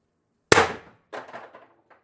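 An air gun fires a steel ball bearing with one sharp close crack, followed half a second later by a fainter metallic clang and a few rattling bounces.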